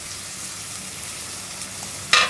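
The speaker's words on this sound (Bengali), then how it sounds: "কালারটা এটা ফুটে উঠলে মাছ মতন ফুটে গেলে এখন মাছগুলো দিয়ে দিতে হবে" Fish going into sizzling mustard and black cumin masala in a pan, a steady bright frying hiss throughout, ending in a sudden louder crackling burst as the pieces hit the hot oil.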